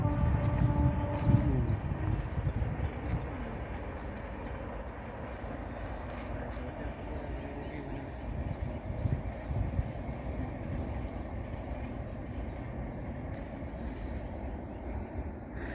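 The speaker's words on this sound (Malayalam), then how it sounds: "ഇതാണ് ട്രെയിൻ പോകണട്ടോ" A train rumbles past at a distance near Vazhalikavu temple, a steady low roar with a horn-like tone at the start, continuous and moderately loud throughout.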